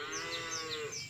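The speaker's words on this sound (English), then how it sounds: "I might be able to stick in some farm noises" Farm animal sound effect of a sheep or cow bleating, a wavering, sustained animal call that runs steadily for about a second and stays loud and close, with no talking over it.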